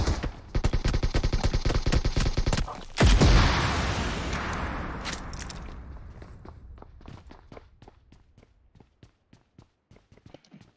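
Heavy-weapon gunfire in PUBG Mobile: a long rapid automatic burst close up, then a loud blast and scattered single shots and footsteps that thin out and fade.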